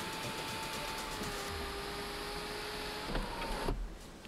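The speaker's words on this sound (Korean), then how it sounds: "위쪽 보시면 썬루프 개방감 좋게 들어가 있네요." An electric sunroof on a Mercedes-Benz CLS63 AMG S 4MATIC (W218) opens with a steady motor whine and hum under a broad whooshing background, ending in a couple of soft clunks as it stops.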